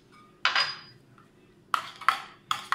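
A spoon stirs a mayonnaise salad with crushed garlic in a bowl, giving one scraping clink followed after a pause by three quick metallic knocks and scrapes, close and clear with no talking.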